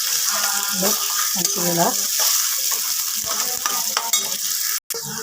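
Onion and green chili sizzle loudly in hot oil, with spoon scrapes and stirring sounds close by and a brief spoken word.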